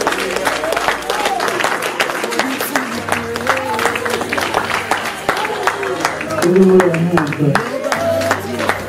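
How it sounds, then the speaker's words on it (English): A church congregation claps their hands in praise, a steady scattered patter of sharp claps with a low hum and voices underneath throughout. "Can you clap your hands for God and may God bless you all?"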